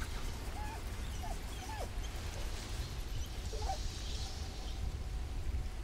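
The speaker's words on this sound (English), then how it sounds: "Gotta have a dog at the camp in every good RPG." A camp dog in the video game Baldur's Gate 3 gives a few short whimpers and yips against a steady ambient game backdrop, fairly faint and spaced out.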